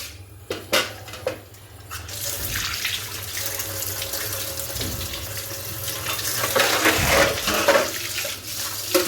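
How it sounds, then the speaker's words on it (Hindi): A kitchen tap runs steadily while dishes are washed, with a continuous close stream of water. A few clinks come first, and splashing swells near the end. "मैं थोड़े से बर्तन धो चुकी हूँ"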